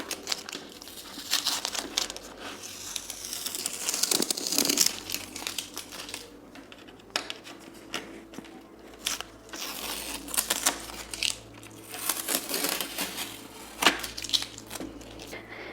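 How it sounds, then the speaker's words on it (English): Masking tape being peeled off the paper edges of a finished watercolor rose painting, giving close, quiet crinkly tearing and crackling that comes in irregular bursts. "let me quickly remove the tape"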